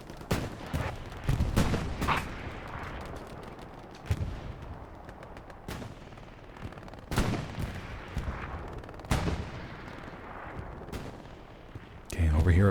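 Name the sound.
artillery fire in the video game Hell Let Loose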